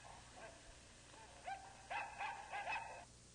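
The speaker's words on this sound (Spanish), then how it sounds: "En 1940 se le adjuntó a Electro un fiel perro llamado Sparko" Sparko, the robot dog built in 1940 as a companion for the Electro robot, gives a short series of bright yips and barks, close and clear over a faint hum.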